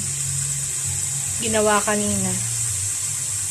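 Water runs into a cooking pot for chicken tinola with corn, a steady rushing hiss throughout, with a person speaking briefly in the middle.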